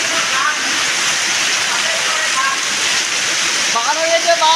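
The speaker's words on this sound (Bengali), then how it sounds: "দেখো জল ঢুকে যাচ্ছে, এই যে জল ঢুকে যাচ্ছে, ভিতরে জল ঢুকে যাচ্ছে অল্প" Rainwater pours and rushes into a house in a steady, loud, hissing wash that fills the whole clip, with faint voices under it.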